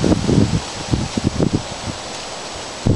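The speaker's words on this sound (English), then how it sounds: "Here comes the secondary wind, the lower wind." Gusty wind rushes past a homemade ceiling fan wind generator outdoors, buffeting the microphone in uneven, loud pulses that swell and fade, with no talking.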